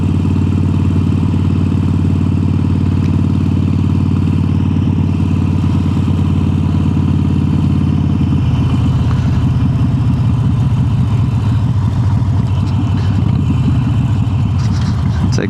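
Harley-Davidson Sportster 883 with an upgraded exhaust, ridden on a road: a loud, continuous throaty engine drone that shifts pitch partway through, with wind rush throughout.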